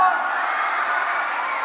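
Cheering and applause from a school audience at a house trophy ceremony, a steady, bright roar of voices and claps, loud and unbroken.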